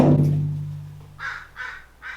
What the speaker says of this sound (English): this bird is always in my freaking window